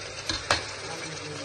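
Chopped onions fry in a hot pan while a home cook prepares chicken and potato curry, giving a steady soft sizzle with a couple of quick scraping clicks from stirring.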